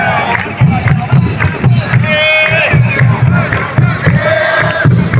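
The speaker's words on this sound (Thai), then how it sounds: "บรรยากาศกองเชียร์ทีมเยือนนะครับ" Away-team supporters chant and cheer at Chalerm Phrakiat stadium in Bang Mod, Bangkok, during a Thai championship football final. The crowd roars loudly and continuously, with rhythmic low thumps keeping a beat beneath the shouting.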